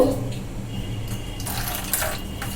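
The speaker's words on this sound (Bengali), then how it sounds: "এই ডিমটার মধ্যে ডিমের যে মশলা করে দিয়েছি এর মধ্যে আমি অল্প জল দেব" Water poured in a thin steady stream into a bowl of egg beaten with spices, a continuous close splashing trickle that brightens partway through, with no talk.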